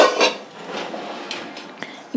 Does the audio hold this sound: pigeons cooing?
no